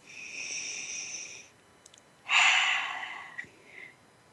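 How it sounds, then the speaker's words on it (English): A person draws a deep breath in and lets it out, with long airy inhales and exhales close to the listener, separated by a short pause and a faint click. "So breathe that in."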